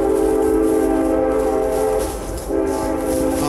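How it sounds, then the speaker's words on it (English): A train passes close by in a rural setting in Stamps, Arkansas, its horn blaring in a long, loud, continuous blast over the rumble of rolling cars. "Apologize for the train in the background."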